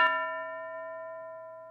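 A single bell is struck once during a classroom English lesson, giving a clear ringing tone that fades slowly on its own.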